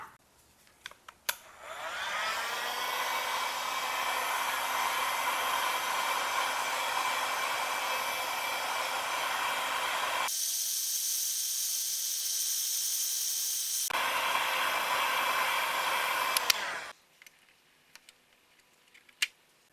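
A heat gun blows on a VW MK7 GTI rear car badge: a loud, continuous roar runs for about fifteen seconds, shifting tone partway through, then cuts off abruptly, leaving a few small clicks.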